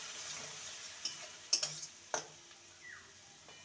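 Spoon scraping and tapping in a pan while tomato paste is stirred with ginger and garlic for a dhaba-style potato curry, a few soft scrapes and clicks over a faint steady sizzle.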